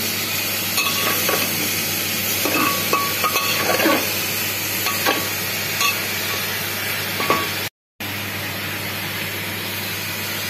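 Carrots, potatoes and tomatoes sizzle in a pan for vegetable pulao while a spoon stirs, giving a steady frying hiss with scattered metallic scrapes and clinks. A brief dropout cuts the sound near the end.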